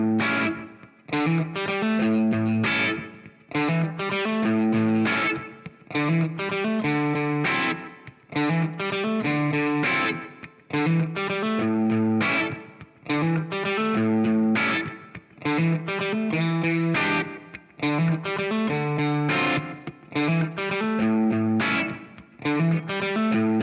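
Distorted electric guitar plays a repeating blues riff in A, with a chorus-like effect; loud, steady phrases recur in a regular cycle with brief gaps between them, and no voices.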